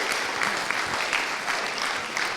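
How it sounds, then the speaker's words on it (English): Audience applause for conference speakers at a sales awards event, a steady dense clapping from a crowd that fills the whole short moment. "One final round of applause for them."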